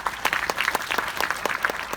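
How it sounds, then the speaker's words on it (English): A round of audience applause for Michelle Yeo at a gathering with ambassadors, a brief burst of many hands clapping, moderately loud and fairly close, with sharp individual claps over the crowd. "Let's give a big round of applause to Miss Michelle Yeo."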